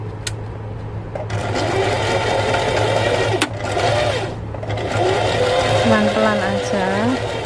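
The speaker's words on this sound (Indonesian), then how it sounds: "Kita jahit ini, jahit pinggir-pinggir dulu yang melengkung-melengkung itu ya." A sewing machine runs steadily along the curved edges of a mermaid skirt, a loud close whirring hum with a faint tonal drone beneath, while someone talks over it.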